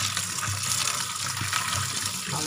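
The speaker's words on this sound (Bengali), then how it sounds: "এই যে শাকটাকে ধুয়ে নিচ্ছি আমি, আজকে পালং শাক করবো অনেকদিন পর" Tap water runs steadily over fresh spinach leaves being washed in a home kitchen, a continuous close splashing gush with no talk.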